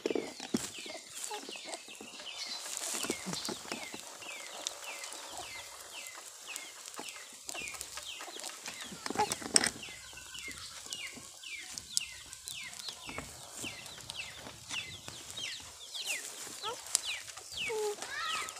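A white hen clucks repeatedly after laying an egg in a farmyard, sharp broken calls rising and falling over about twenty seconds, mixed with other fowl and people talking nearby.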